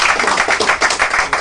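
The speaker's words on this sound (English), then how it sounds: "Round of applause." Short burst of audience clapping at a parlour magic show, dense, fairly close and steady over a second and a half, with no voices.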